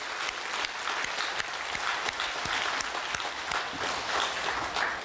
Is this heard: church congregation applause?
yes